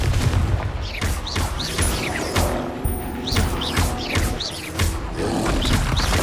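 Repeated fiery blasts from the Confringo spell in Hogwarts Legacy on PS5, a string of loud bursts and whooshes over a rumbling, crackling battle background.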